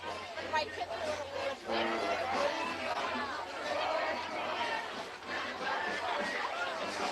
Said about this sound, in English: So, yeah, this is a pretty large crowd.